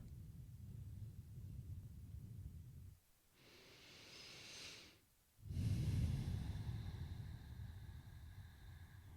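Slow, deep breaths, close and airy: a long inhale, a brief pause, then a longer, heavier exhale.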